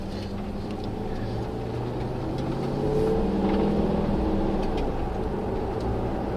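Engine of a 2009 Maserati Quattroporte GTS with its exhaust flaps closed, a steady low rumbling drone that swells slightly midway and holds, heard up close with no speech.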